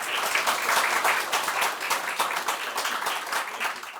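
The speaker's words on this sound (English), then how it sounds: "I would now request you all to please welcome Mr. Murtaza Zaidi with the noise of your claps" An audience claps steadily to welcome a speaker at a university seminar in Islamabad, giving dense, sustained applause from many hands throughout the room with no voices over it.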